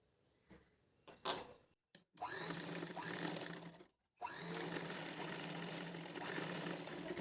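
A sewing machine stitches a simple baby frock cut from a blouse piece, running in two steady bursts separated by a short pause, after a few scattered clicks and taps, fairly faint throughout.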